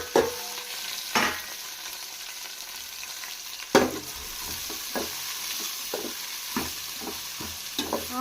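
Thinly sliced onions and green chillies frying in a pan for a mixed vegetable curry, a steady sizzle broken by several sharp scraping stirs at irregular moments, close and with no speech.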